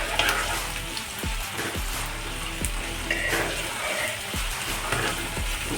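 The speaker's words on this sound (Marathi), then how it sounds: "आता आपली आलं लसूण पेस्ट छान फ्राय झालेली आहे." Ginger garlic paste frying with browned onions for pav bhaji, a steady close sizzle with a few soft stirring scrapes and taps against the pan, no voices.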